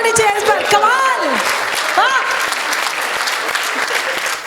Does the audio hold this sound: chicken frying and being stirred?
no